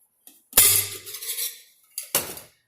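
Metal pots from a Stanley camping cooking set clink and clatter together at close range, one sharp bright knock followed by ringing scrapes, then a second shorter clank a moment later, with no talking.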